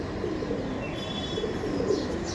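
A male racing pigeon held in one hand coos and struggles at a loft, soft throaty cooing over a steady rushing background, close by, with no talking.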